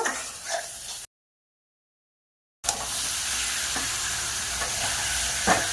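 Chicken and spice paste fry in oil in a pan with a steady sizzle and occasional stirring scrapes, interrupted by a short stretch of total silence before the sizzling resumes, no talking.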